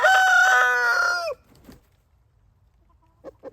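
A free-ranging rooster crows in the rain, one loud close cock-a-doodle-doo that cuts off abruptly, followed by quiet patter and a few faint clucks.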